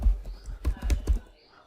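A computer keyboard while entering a Linux terminal command, a few quick close key taps in a short cluster before fading to quiet.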